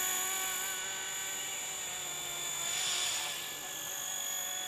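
Steady high-pitched whine of an RC micro helicopter, an S300C with 250mm blades in a 250 CFX setup, hovering at park-flyer idle-up settings; the tone holds constant with a slight swell near the middle, alone with no talking.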